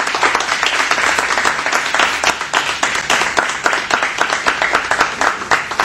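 An audience gives a welcoming round of applause to a musical group, a lively, close crowd of clapping hands with distinct individual claps in a fast, continuous patter.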